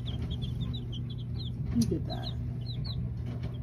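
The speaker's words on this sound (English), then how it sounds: "we have about a dozen chicks" About a dozen baby chicks cheep in rapid, high, repeated peeps close by, with a brief spoken comment partway through.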